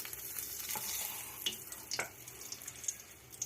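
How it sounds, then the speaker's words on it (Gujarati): Bay leaves dropped into hot oil give a soft crackling sizzle with small pops, faint and close, in a Kathiawadi-style khichdi tempering. "આપણું તેલ ગરમ થઈ જાય તો આપણે તેજ પત્તા નાખશું"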